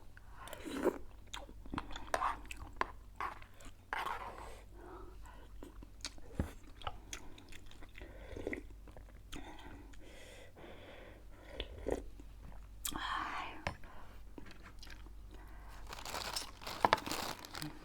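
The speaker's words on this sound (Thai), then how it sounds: "กระดูกหมู เราก็แทะสิคะว่างระหว่างรอ" Someone gnaws on a pork bone at close range, with irregular crunches, bites and wet chewing sounds scattered through a quiet background.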